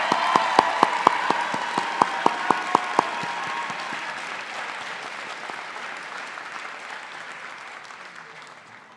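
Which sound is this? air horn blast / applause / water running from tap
applause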